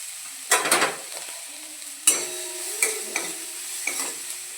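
Chopped onion goes into a hot pan for pav bhaji and bursts into loud sizzling, followed by quieter frying and short scraping stirs at intervals, close by and without speech.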